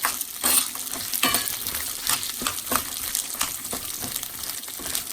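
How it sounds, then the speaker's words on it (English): Green chillies frying in a pan with red chilli, stirred steadily, giving a continuous sizzle broken by repeated scraping strokes; no voices. "green chilli, keep on stirring it or else they might burn"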